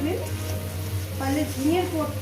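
Sliced ridge gourd fries in a pan over a medium gas flame for a potato and egg dish, giving off a steady soft sizzle while a person talks over it.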